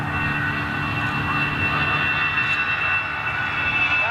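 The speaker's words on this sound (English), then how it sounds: "Now they are CFM 56 engines now." A jet airliner with CFM56 engines gives off a steady, broad roar with a high whine on top, heard from a middle distance and continuing without a break.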